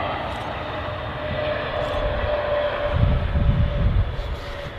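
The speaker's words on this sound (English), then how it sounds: "And she's down. A320neo. EasyJet." An EasyJet Airbus A320neo landing at Manchester Airport, its engines a broad, steady roar close by that swells toward touchdown and stays loud without fading.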